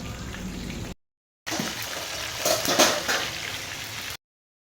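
Quail frying in coconut oil, a dense crackling sizzle with spitting pops, loud and close, broken by a short silent gap and cutting off abruptly at the end.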